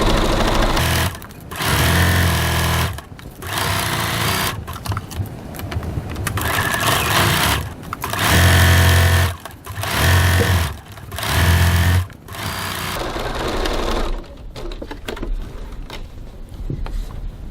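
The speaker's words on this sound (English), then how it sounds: "I'm just going to stitch these two seams" A sewing machine stitching two bag seams at a 2.4 stitch length, loud close bursts of rapid whirring with short pauses between runs, then it stops near the end, no talking.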